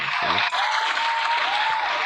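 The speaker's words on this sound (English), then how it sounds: "Let's keep the applause going." A burst of applause, dense and steady, filling the short span loudly and evenly at the start of a podcast episode intro, with no talk over it.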